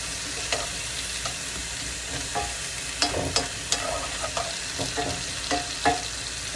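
A spoon scrapes and stirs vegetables with chili powder in a sizzling pan, with irregular clicks and scrapes over a steady frying hiss.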